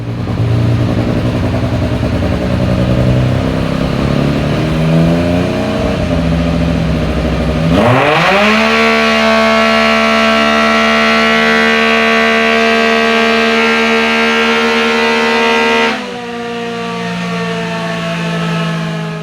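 A Textron Wildcat XX side-by-side with an aftermarket exhaust and intake runs on a dyno, climbing through a rising rev sweep, then holding a loud, steady high-rpm wail with no talk for several seconds before dropping back to a lower drone.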